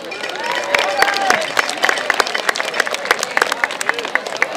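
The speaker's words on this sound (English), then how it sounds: "let's have one more round of applause for our class of 2023 Fall Athletes in Activity" Applause and cheering from a crowd honoring senior fall athletes during a Senior Night ceremony at Mountaineer Field, a dense, steady wash of many hands clapping with scattered sharp claps, continuous throughout.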